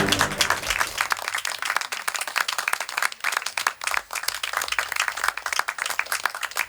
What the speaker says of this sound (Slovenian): Kakšen vljuden aplavz